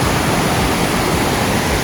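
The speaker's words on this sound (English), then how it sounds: "Sounds like there's a waterfall." A waterfall near a backcountry trail campsite on the Coosa Backcountry Trail gives a steady, loud, unbroken rush of falling water that fills the whole clip, with no talking.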